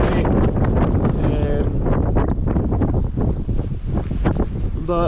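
Blustery wind at Loch Laggan buffets the microphone with loud, gusting rumbles and roaring bursts that never let up, a raw outdoor roar close to the mic.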